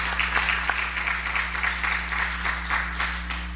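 A church congregation applauds the choir after a hymn on a Sunday morning service, a steady, fairly soft wash of many hands clapping throughout over a low hum.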